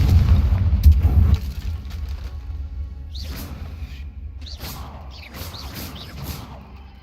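Confringo fire spell in Hogwarts Legacy bursting with a heavy low boom, followed by several sharp whooshing magical blasts fading into a softer rumbling tail.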